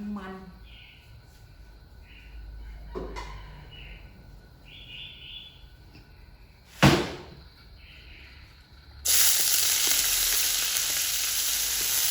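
Boiled pork belly with winged beans is stir-fried in a pan. A voice talks over quiet kitchen background and one sharp knock, then a loud, dense sizzle bursts in and holds steadily to the end.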